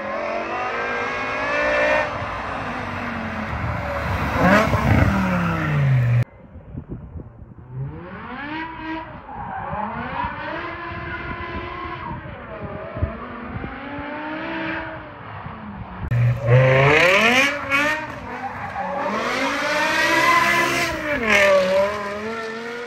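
A BMW M5 V10 with a full straight-pipe exhaust screams and wails through repeated rises and falls while drifting, with tire squeal during the hard runs, loud and close.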